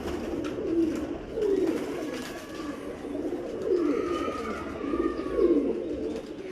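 Breeder pigeons of the Thanedar Jawari breed, kept in Kasur, coo in repeated soft, throaty phrases close by, with faint chirps and light background noise between the calls.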